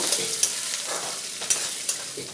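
Chopped onion and grated coconut sizzle in a pan while being stirred for ghugni, a steady frying hiss broken by several light scrapes and taps of the spoon against the pan.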